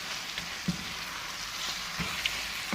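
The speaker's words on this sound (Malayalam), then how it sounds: "അരപ്പിലേക്ക് ആ ചിക്കൻ ഇട്ട് നല്ലപോലെ ഒന്ന് മിക്സ് ചെയ്ത് കൊടുക്കാം" Chicken pieces mixed into a masala paste in a pot for biryani, a steady frying sizzle with a few soft thuds and scrapes of stirring, close and without speech.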